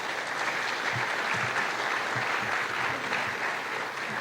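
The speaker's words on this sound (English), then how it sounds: "Can I have a warm round of applause for all of our sponsors?" Steady audience applause at a mayor's breakfast event honouring its sponsors, dense even clapping from a crowd in a room, held at a constant level throughout.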